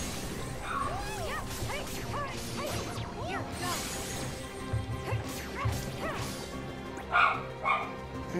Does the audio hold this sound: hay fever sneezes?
no